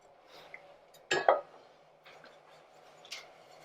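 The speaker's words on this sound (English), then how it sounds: "What we'll do is we'll add some of it and I'll stir it around." Sugar being stirred into sliced peppers in a pot for cowboy candy, a utensil scraping and clinking against the pot in a few short bursts, one louder clatter near the middle, with no talking.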